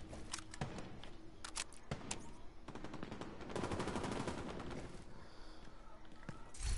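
Bursts of M4 rifle fire in a shooter video game, a run of rapid sharp shots, then scattered single cracks over a steady background, moderately loud.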